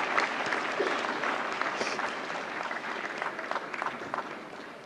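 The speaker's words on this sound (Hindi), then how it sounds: "जोरदार तालियों से स्वागत करें गंगूबाई काठियावाड़ी की टीम का." An audience at the 69th National Film Awards ceremony applauds as an award-winning film team is welcomed, with a sustained wash of crowd clapping heard at moderate distance and holding steady for several seconds.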